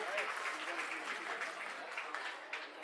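Audience applause at a school ceremony honouring a teacher: steady clapping from a gathered crowd, moderately loud and continuous, with voices mixed in.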